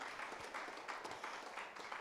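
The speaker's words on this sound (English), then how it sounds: "Please clap for Coach" Faint audience clapping for a coach at a real estate sales seminar, a brief and quiet patter of hands heard from across the room.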